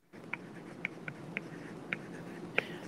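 Pen or marker writing out an equation while solving a recurrence relation: a handful of faint, light taps and short scratches spaced irregularly over a soft steady room hiss.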